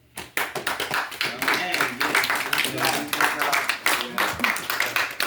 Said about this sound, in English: we have to clap our hand to the kids who might participate